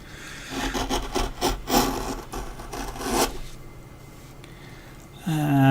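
A hand tool cuts and scrapes through wood while a dragon figure is carved, giving a series of rough rasping strokes that fade into quieter scraping, followed by a brief tonal hum at the end.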